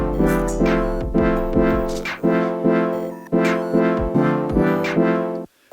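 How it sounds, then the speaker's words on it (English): Future bass swell chords from Ableton's Wavetable synthesizer: bright, layered chords that pump in repeated rising swells, each cut short by a sidechain-like dip. The sound is loud and steady, with no speech, and ends in a brief gap. "So the first one that I make a lot is this future bass style swell chords."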